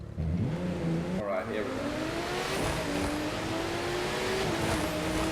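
A Porsche's engine revs and accelerates in the racing game The Crew 2, a steady rising drone under a brief spoken remark near the start.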